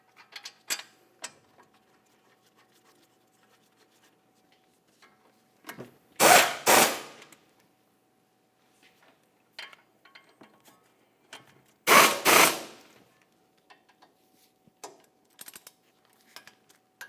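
Two short, loud bursts of a power tool or ratchet tightening caliper bracket bolts on a Jeep Renegade, well apart, among quiet clicks and tool handling in a garage.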